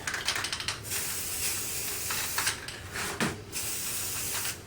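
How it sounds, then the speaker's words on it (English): A spray can hisses brown paint onto a wooden cross in bursts, a steady airy spray that pauses briefly and resumes, close up and with no one talking. "we're going to spray this cross a brown paint"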